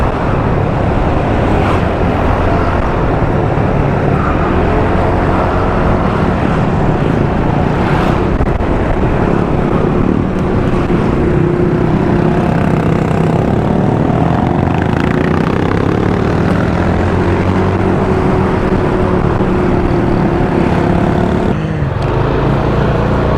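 A car driving and overtaking on a bend on a bright day near Gadok, a loud, steady engine and road roar close up, holding level throughout without talk.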